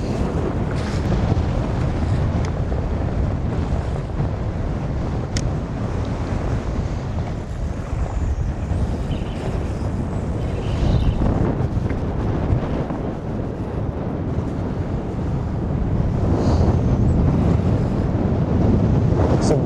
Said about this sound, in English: Bouncing through them daggone waves